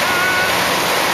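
Ocean surf washes steadily onto Jenness Beach in Rye, New Hampshire at night, a loud, continuous hiss of breaking water with no distinct individual waves and no voices.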